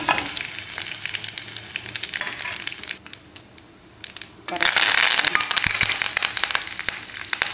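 Chana dal, cumin seeds and ginger crackle and sizzle loudly in hot oil for vegetable upma, a brief lull then a bright, dense burst of frying as more goes into the pan.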